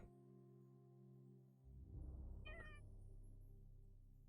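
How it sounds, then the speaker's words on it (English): A cat meows once in a video game, a brief, fairly clear call rising over a steady humming game background with a low rumble. "Kitty. Meow."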